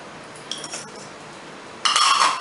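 A spoon stirs desiccated coconut and raisins into flour and baking powder in a bowl. It gives a couple of faint scrapes and clinks, then a louder burst of clinking scrapes near the end, close by.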